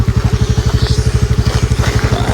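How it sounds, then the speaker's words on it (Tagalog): A motorcycle engine runs close by with a loud, rapid, even chugging pulse throughout, steady and unvarying, with no talk over it. "motor po ang ginagamit namin eh"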